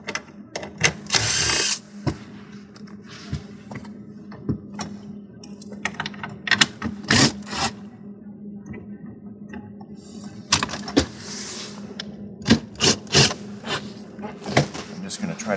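Quarter-inch screws come out of a Whirlpool refrigerator's ice maker as sharp clicks, rattles and short whirring driver bursts scattered irregularly across the stretch. A person talks between the tool sounds.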